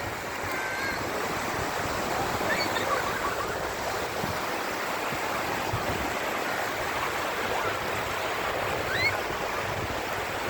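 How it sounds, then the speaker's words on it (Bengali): Continuous rushing wash of water waves breaking, steady and fairly loud, with wind noise mixed in. "পানির ঢেউ দেখছ"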